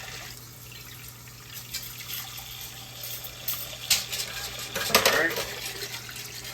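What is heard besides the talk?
water being poured or run from a tap in a kitchen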